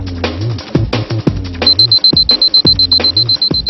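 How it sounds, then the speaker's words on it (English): A wristwatch alarm beeps in a fast, steady run of short, high-pitched pulses that starts partway through and carries on to the end, sounding over rhythmic mechanical rattling. "I'll turn on the watch's alarm."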